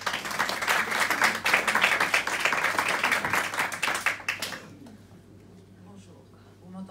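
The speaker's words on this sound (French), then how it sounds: "On peut l'applaudir." Steady audience applause at a conference on music and well-being, a dense patter of many hands lasting about four seconds before fading out to a quiet room.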